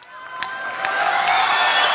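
A live crowd at a Bollywood star's stage welcome, rising into sustained applause and cheering that swells steadily and holds loud across the moment, dense and broad.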